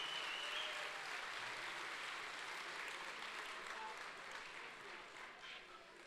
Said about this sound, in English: please give yourselves a big round of applause for attending this fabulous gala